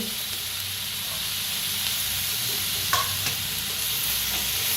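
Garlic, ginger, green chillies and cashews roast in hot oil in a pan, giving a continuous close sizzle and hiss with a couple of faint stirring clicks partway through.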